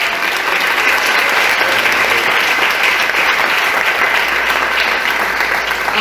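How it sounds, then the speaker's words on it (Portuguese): A church congregation applauds in a dense, steady wash of clapping that holds at full strength without a break. "Aplauda o Senhor."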